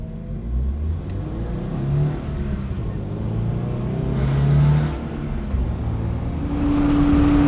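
Toyota GR86 lapping a race track on low-grip tires, its engine droning loudly and steadily throughout with a rising whine near the end; any tire squeal is buried in the engine and wind noise.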